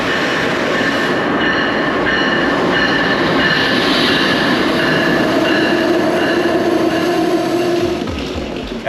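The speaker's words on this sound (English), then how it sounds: "After the train finally came, we hopped on board" A passenger train rumbles steadily and loudly throughout, with rail noise and faint metallic squeals, slowing slightly toward the end as it pulls into a station in Washington, D.C.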